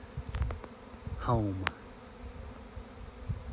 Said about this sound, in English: That is a swarm. This whole place is covered in bees.